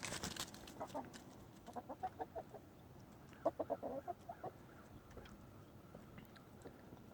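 Backyard chickens fed kitchen scraps and compost cluck in short, soft bursts, a few scattered calls and then a quick run of clucks midway, fairly quiet and close, with no talking.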